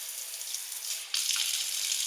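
Water runs from a kitchen sink tap in a shipping container home, a steady hissing flow that surges louder partway through, with no talking.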